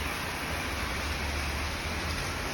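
Steady rain falls on an outdoor market stall, a dense, even hiss of drops with a low rumble underneath, continuous and fairly close, with no voices.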